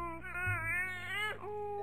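A baby's wavering, whimpering cry rises and falls for about a second and a half over a low ambient game soundtrack in the puzzle game Rusty Lake: Roots.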